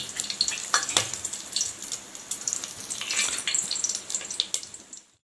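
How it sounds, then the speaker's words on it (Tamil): Spices hit hot oil for mutton biryani with bright crackling and sizzling, sharp pops scattered through a steady fry before it cuts off. "பாருங்கள், எண்ணெய் நல்லா சூடாயிடுச்சு. இப்போ நம்ம இந்த ஸ்பைசஸ் எல்லாம் சேர்த்திக்கலாம்."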